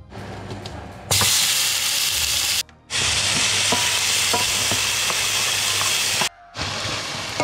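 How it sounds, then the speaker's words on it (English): Loud, steady sizzling of tomatoes frying in garlic paste in a pan, with short breaks where the hiss drops out and soft scraping from stirring. "We've got the tomatoes frying in the garlic paste."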